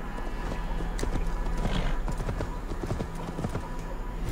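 Rapid, rhythmic hoofbeats of a galloping horse in the video game Assassin's Creed Valhalla, loud and close, with a brief whinny, over a low steady hum.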